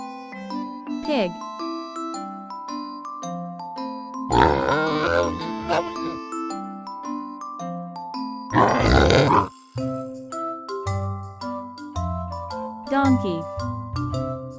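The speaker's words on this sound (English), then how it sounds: "Pig." Pig grunts from a farm-animal lesson come in two coarse, rough bursts partway through, set against bright, steady background music that plays throughout.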